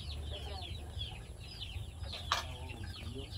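Chickens cluck and chatter at feeding time on a farm alongside ducks, a busy overlapping stream of clucks at moderate distance with a steady low background hum and a brief sharp knock.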